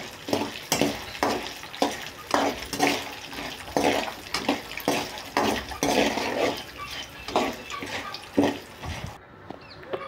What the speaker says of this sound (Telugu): ఎండుమిరపకాయలు కూడా బాగా వేయించుకోవాలండి